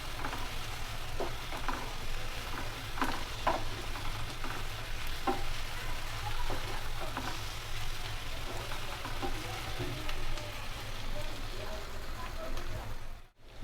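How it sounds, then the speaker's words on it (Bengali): Dried chepa shutki fries with pui leaves in a pan, a steady soft sizzle with scattered scraping stirs throughout, ending abruptly. "এখন একটু নেড়ে দিলাম।"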